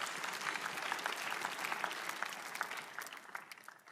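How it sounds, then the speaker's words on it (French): A church congregation applauds during a healing sermon, a dense, steady wash of many hands clapping at moderate distance that thins slightly toward the end. "Applaudissez pour lui."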